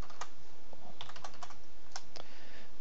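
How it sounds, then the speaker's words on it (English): Typing on a computer keyboard at a desk, a quick irregular patter of light key clicks in short bursts, fairly close and alone with no talking. "As soon as I start typing"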